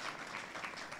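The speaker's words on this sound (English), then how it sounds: "Give these guys a big round of applause." An audience applauds at a talent showcase event, a dense, steady patter of clapping heard at a moderate distance for a brief moment.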